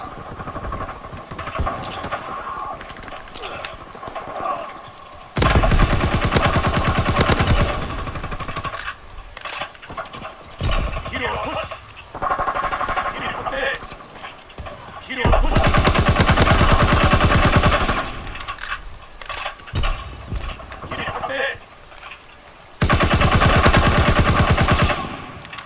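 Loud, close gunfire from Call of Duty WWII in long automatic bursts from a BAR rifle, broken by short pauses, with game noise in the gaps.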